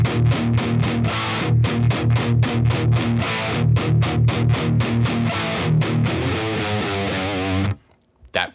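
Heavy distorted electric guitar riff in drop D tuning, loud rhythmic chugging with palm-muted stops, ending abruptly with a faint string noise.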